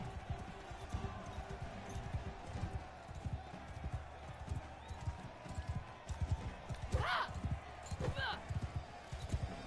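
Horse hooves clip-clop rapidly and steadily in a galloping rhythm in the video game Mount & Blade, set against a dense, noisy background with a voice speaking over it.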